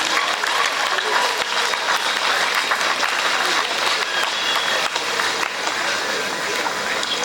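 A church congregation at a thanksgiving mass for the Marist Brothers applauds warmly and steadily, a dense, continuous wash of clapping that fills the room without letting up.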